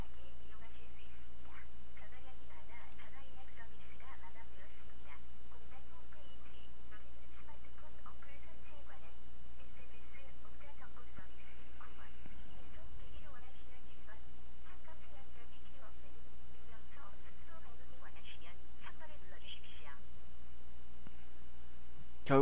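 A failed telephone call plays through a handset, with faint electronic tones, clicks and ringing that end in an automated machine tone, while a person talks over it.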